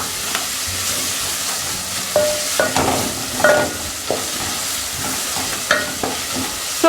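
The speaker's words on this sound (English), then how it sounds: "So you stir and make sure the tomatoes are soft enough" Tomatoes being stirred as they fry in a pot, with a steady close sizzle broken by repeated scraping and clanking strokes of the spoon against the pot.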